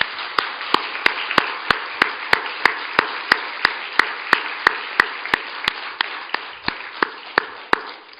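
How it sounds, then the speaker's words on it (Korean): A church congregation claps together in praise. Sharp, evenly spaced claps fall in a steady beat about three times per second over a continuous wash of crowd sound, sustained for several seconds. "우리 하나님께 영광의 박수를 올려드리겠습니다."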